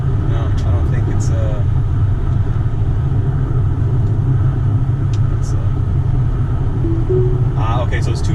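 A 2019 Tesla Model X Performance cruises on a road, a steady low rumble of tyres and motion filling the cabin while a person talks over it throughout.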